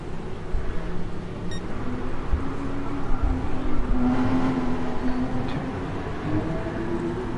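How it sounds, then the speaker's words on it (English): Steady engine drone of GT3 race cars circling the Nürburgring GP circuit in a video game, a continuous mid-level roar with passing whines rising and fading, no voices. "we have GT3 cars going around"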